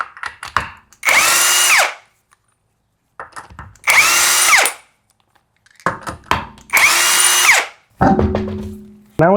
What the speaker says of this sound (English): Need to go ahead and remove the wheel.